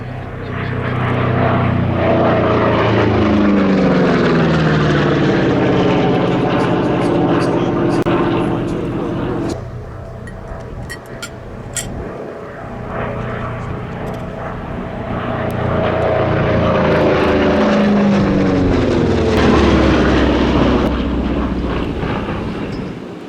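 The B-17 bomber Sally B flies at Cosford with a P-51 Mustang and a P-47 Thunderbolt. Loud, droning piston propeller engines swell and sweep past, dip briefly midway, then build again as the aircraft pass overhead.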